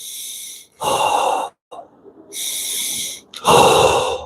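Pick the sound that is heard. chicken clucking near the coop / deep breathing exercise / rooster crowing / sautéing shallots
deep breathing exercise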